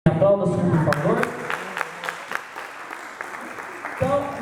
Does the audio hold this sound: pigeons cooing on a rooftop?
no